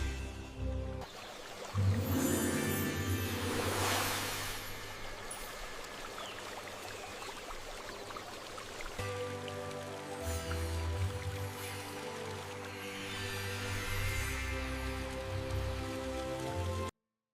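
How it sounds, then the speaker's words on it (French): Water splashes and laps in a stone fountain outdoors, a continuous close trickle and patter with shifting drips and gurgles, steady throughout with no voices. "Écoutez le clapotis"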